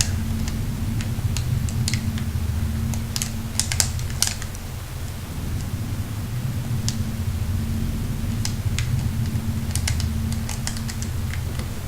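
Keys tapped on a keyboard to punch in a safe code in a video game, clusters of crisp clicks in two bursts separated by a pause, over a steady low background hum.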